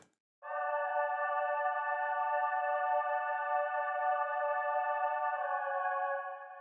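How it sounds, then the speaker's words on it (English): A sustained choir-like synth chord holds steady for several seconds after a brief silence, smooth and even, then subtly shifts before fading slightly. "I just added some choir in there because I love my choir sounds."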